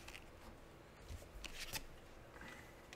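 Playing cards being shuffled at a table among friends during a drinking card game, a quiet riffling flutter with a couple of sharper snaps, close and soft, with no talking.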